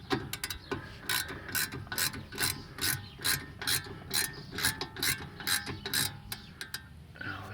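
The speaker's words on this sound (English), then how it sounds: "And screw the bottom one in." A ratchet drives in the lower brake caliper bolt of a VW Polo 9N 1.2 while its front pads are replaced, producing a steady run of rapid clicking strokes, close up and moderately quiet, with no voice.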